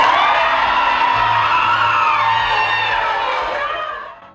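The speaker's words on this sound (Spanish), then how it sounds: "Los presentes estallaron en gritos y aplausos." A courtroom crowd erupts in loud shouting, cheering and applause after a verdict, a dense roar of many voices that stays strong and then fades out at the end.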